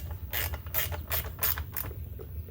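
A ratchet clicks in three or four quick bursts as it snugs bolts on a Troy-bilt 21-inch self-propelled mower. The clicking is close and crisp, with short pauses between bursts.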